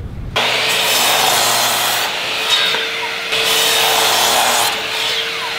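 Wooden boards are trimmed to size for a rug-tufting frame, producing a loud, continuous rasping cut that runs almost unbroken, with slight shifts in tone from stroke to stroke.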